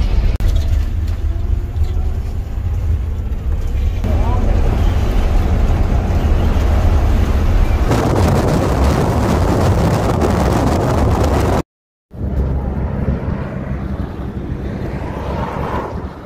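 A bus in Peru rumbles along with loud, steady road noise and heavy wind buffeting, cutting out briefly near the end before resuming more quietly.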